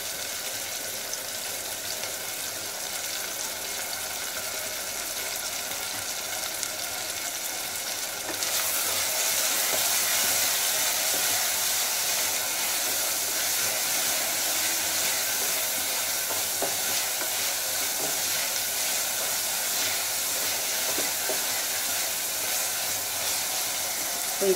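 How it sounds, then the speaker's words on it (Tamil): Onion and garlic sautéing with salt in a pan for a tomato thokku give a steady, close sizzling hiss throughout, growing louder and brighter partway through with no voice. "இப்போ இந்த வெங்காயமும் பூண்டும் நல்லா வதங்கிடுச்சு"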